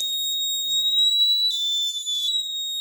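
Alarm buzzer on a smart helmet project board with a GSM module and accident switch sounds a continuous shrill high-pitched tone, loud and steady for the whole stretch with a slight warble midway.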